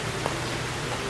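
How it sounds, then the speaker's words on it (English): Rain falling outdoors at a street comedy show makes a steady, even hiss of broadband noise throughout, with no distinct drops or voices standing out. "It's really raining, isn't it?"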